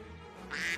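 Cartoon birds quack in a short burst near the end, a bright nasal call rising over a low background bed, with no speech.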